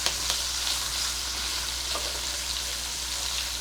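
Capsicum sautéing in a pan gives a continuous, fairly loud sizzle with a few faint stirring taps and no voices over it.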